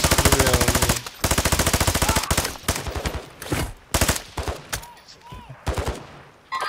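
Rapid automatic gunfire in Warzone 2 DMZ, long sustained bursts followed by shorter broken volleys, loud and close, with other game sounds between them.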